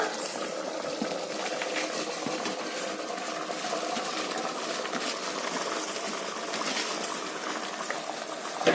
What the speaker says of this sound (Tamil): இப்போ தண்ணி நல்லா கொதிச்சு வந்துருச்சு